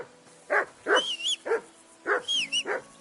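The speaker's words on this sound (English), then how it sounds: "Henry! Call off that damn dog before he wolfs down the last of our mates." A dog in Kingdom Come: Deliverance II gives a quick run of sharp barks broken by high whimpers and yips, close and loud, with no talk.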